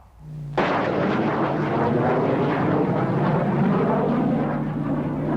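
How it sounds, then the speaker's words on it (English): U.S. Navy fighter bomber aircraft over Grenada, a sudden loud roar that kicks in after a brief low hum and then holds as a broad, sustained rumbling wash with no voices. "The skies over Grenada still echo today with the roar of U.S. Navy fighter bombers."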